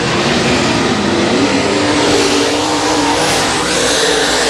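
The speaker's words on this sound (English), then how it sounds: "David Winslet going to smash the loud pedal" A race car on a dirt speedway roars loudly and continuously close by, its engine note steady and heavy as it accelerates hard through the turn, with no talk over it.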